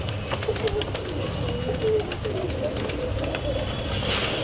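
Madrasi pigeons coo inside a loft, a soft, continuous murmur of overlapping low calls at moderate distance, steady throughout with faint background noise.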